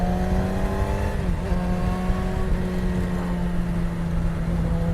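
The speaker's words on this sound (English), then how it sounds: "This engine sounds nice though. It has that bassy sound," A 2018 Yamaha R6 motorcycle engine running close by with a steady, bassy, buzzing drone that dips slightly in pitch partway through and then holds even and loud.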